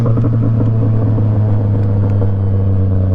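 A Yamaha MT-07 motorcycle being ridden, its engine holding a steady, close droning note with a rumbling low end and little change in pace throughout.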